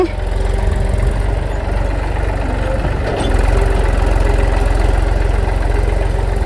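A tractor engine runs steadily while driving a rear-mounted manure spreader in a farm field, a continuous low, throbbing drone with mechanical rattle that holds even and fairly loud throughout.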